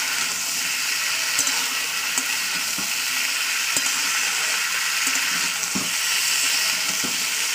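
Potatoes and beans frying in hot oil in a pan, a close, continuous bright sizzle with occasional stirring scrapes and small pops throughout.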